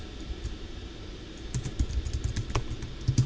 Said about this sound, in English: you can go up here above it and type in